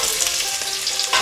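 Potato pieces fry in hot oil in a pan, a dense close sizzle that holds steady and swells slightly at the end, with no talking.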